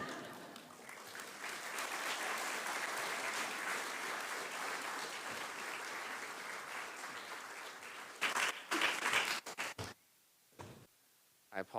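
Sustained applause from a graduation ceremony audience, steady and full for about eight seconds before breaking into a few scattered claps and fading out.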